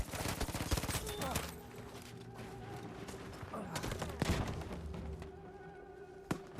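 Rapid bursts of M3 grease gun submachine gun fire in Battlefield 5, close and punchy with rattling automatic shots, distant gunfire and explosions behind, and a voice talking faintly over it.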